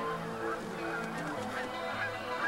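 Wild geese honking in a dense, continuous chorus as birds land during a waterfowl hunt, calls overlapping throughout at moderate distance.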